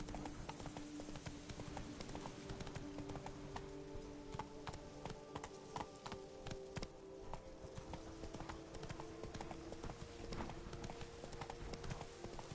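Horse hooves clip-clop steadily in The Witcher 3 video game, a quick, continuous rhythmic trot at even volume across the whole stretch, with no talk.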